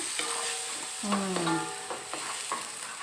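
A steady, loud sizzle of blended dried shrimp frying in a pan for fried rice, with utensils scraping and stirring through it; no voices.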